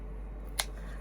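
A single crisp scissor snip cuts off craft material during a bunny craft project, one short, close click over a low steady hum.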